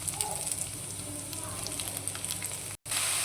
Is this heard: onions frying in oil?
yes